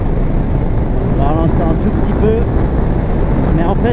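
A Yamaha MT-07 Flames motorcycle runs near its top speed, with a steady broadband roar of engine and wind rushing past the rider throughout. Faint speech sits under the noise.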